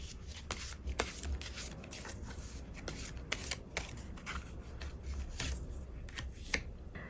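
Tarot cards are shuffled by hand in a steady run of quick papery riffles and soft taps, close and fairly quiet, with no talking over them.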